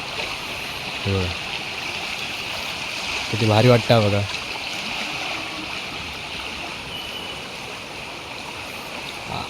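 A flooded river in the Konkan region rushes steadily in a broad, even roar that stays constant throughout, while someone speaks briefly over it twice.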